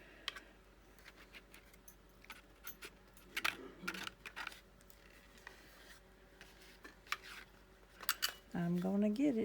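Scissors snip paper while a Christmas card is being made with Stampin' Up supplies, giving a series of short, crisp cutting and rustling sounds close by in a quiet room, with a voice speaking at the end.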